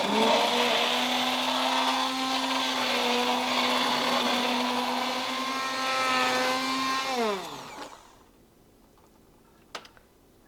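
Blender emulsifying homemade tomato soup, a loud steady motor hum that winds down in pitch after about seven seconds and stops, leaving faint kitchen clatter.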